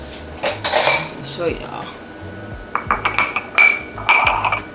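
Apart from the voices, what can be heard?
small soup bowls being handled, clinking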